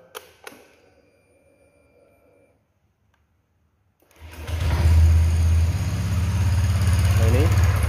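A Honda Vario 150 scooter with an engine that had been misfiring starts after a few faint clicks and a short silence, then settles into a loud, steady close-up idle.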